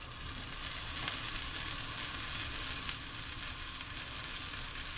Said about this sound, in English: we're going to add our butter.